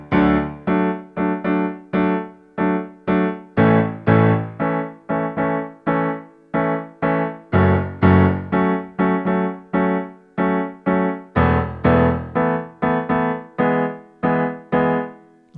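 Piano left hand striking octaves in a steady rhythmic pattern for the verse of a song, short detached hits in repeated pairs, close and clear with no talking.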